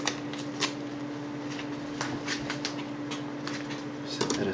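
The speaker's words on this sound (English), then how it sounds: "you can remove the little tape and plastic from the screen now." Thin protective tape and plastic film being peeled and crinkled off a Toshiba Satellite C655D laptop screen, a close, steady rustling with crackly bursts throughout.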